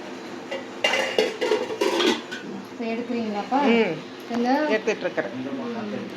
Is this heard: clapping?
no